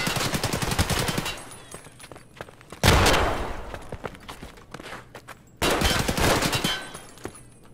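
Gunfire from a modded P226 pistol in Escape from Tarkov comes in rapid strings of close, sharp shots, with two loud, dense bursts standing out against a busy backdrop of game noise.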